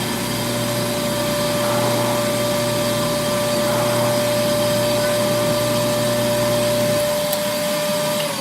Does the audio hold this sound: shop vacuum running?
yes